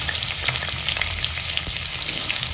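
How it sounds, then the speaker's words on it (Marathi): Spices for soybean curry masala roasting in a hot pan, producing a loud, continuous sizzling crackle for a few seconds with no voices. "मसाला भाजून घेते भाजीसाठी सोयाबीनच्या"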